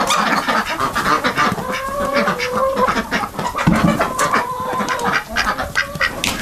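A busy barnyard flock of chickens clucks and squawks up close and loud without pause, with ducks mixed into the noise.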